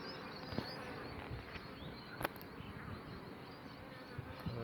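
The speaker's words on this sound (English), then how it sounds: "there are clearly bees in the chimney" Honey bees buzzing inside a house chimney, a continuous low drone with a few louder passing buzzes, heard close and alone.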